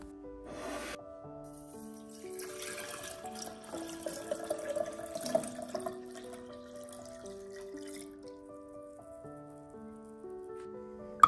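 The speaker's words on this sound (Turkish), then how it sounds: "Üzerine 1 litre su ekliyorum." One litre of water is poured over breadcrumbs for a cinnamon-water soak, making a soft, continuous wash of splashing that builds in the middle, with steady background music underneath.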